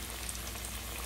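Chicken fried steak sizzles in hot oil with a constant, even crackling hiss that stays unbroken for a short moment.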